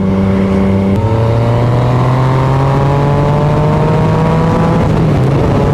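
A Yamaha MT-09 motorcycle accelerates hard in third gear on the road, its engine note climbing steadily in a loud, close, rising whine that dips briefly as it shifts.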